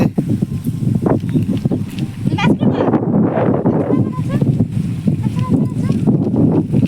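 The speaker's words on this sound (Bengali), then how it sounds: "কি সুন্দর হাওয়া দিচ্ছে" Gusty wind buffets the microphone in a rough, continuous rumble while people talk nearby.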